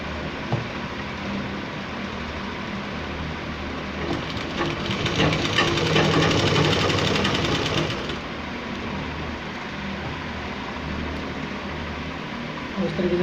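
An electric sewing machine stitching a gents' kurta runs in a steady burst midway through, rising over a constant background hum and then dropping back.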